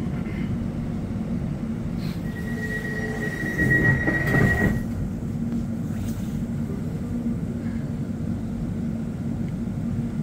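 An Elizabeth line train on the London route toward Abbey Wood rumbles steadily along the tracks, with a brief louder rattle and a high wheel squeal in the middle.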